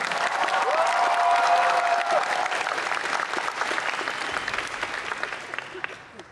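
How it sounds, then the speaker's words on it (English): Crowd at a fursuit dance competition applauding and cheering loudly, with a whistle early on, then the clapping slowly fades away toward the end. "Let's hear one more round of applause."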